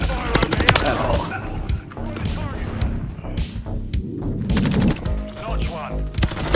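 Rapid bursts of automatic gunfire and sharp single shots crack in Call of Duty Modern Warfare 3, dense and loud, with brief lulls between volleys and a voice giving game callouts over the shooting.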